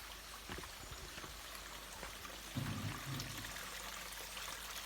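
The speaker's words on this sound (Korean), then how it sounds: "자, 물이 흐르고 있습니다." A mountain stream flows quietly and steadily in the background, a soft continuous rush with a brief low gurgle midway.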